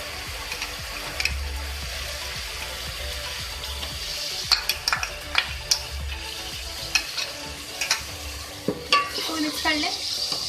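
Chicken fries in a pan with a steady, soft sizzle, while a spoon scrapes and taps against the pan in a run of sharp clinks during the stirring, close by and fairly quiet.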